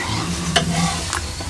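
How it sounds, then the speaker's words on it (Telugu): Spicy goat head curry frying and being stirred in a pan, a steady close sizzle with a couple of brief scraping stirs. "కొంచెం వేగాలి ఇంకా."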